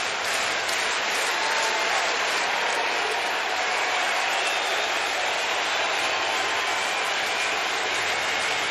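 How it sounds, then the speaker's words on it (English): At Citi Field, a large baseball crowd at a Padres versus Mets game claps and cheers loudly and without a break. The dense roar of applause holds at an even level from start to finish, and no talk is heard over it. "Biggest crowd in 2 years at Citi Field,"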